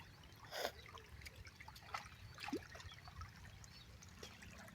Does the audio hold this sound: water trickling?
yes